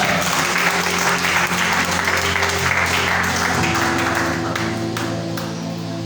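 A church congregation applauding the Lord during a French-language morning service, heard as loud, sustained crowd clapping over a held organ or keyboard chord, tapering slightly toward the end.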